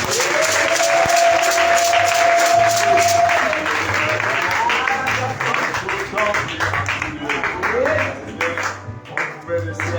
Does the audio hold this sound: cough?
no